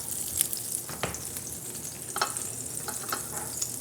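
A butter-toasted ham, egg and cheese sandwich sizzles steadily in a pan, with a soft continuous hiss and a few sharper crackles and clicks near the mic.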